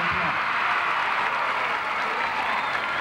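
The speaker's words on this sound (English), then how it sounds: "Give them a nice round of applause." A crowd applauds Detroit Mayor Coleman Young and Isiah Thomas at a 1986 No Crime Day event, a steady, dense wash of clapping that holds evenly at moderate loudness throughout.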